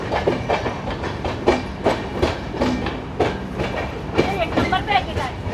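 A Ranthambhore Express passenger train pulling into Kota Junction platform, with rhythmic clickety-clack of wheels over rail joints and a rumbling carriage, while people talk nearby over the train noise.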